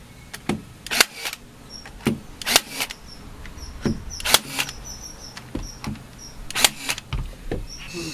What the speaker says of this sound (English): I've got a lot of staples to fire, so let's go see if this thing is any good.